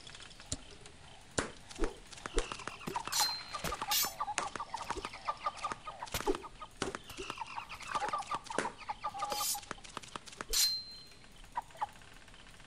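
Repeated chicken clucks and short squawks in the game Dead Samurai, scattered across the clip amid clicks and busy electronic sound effects.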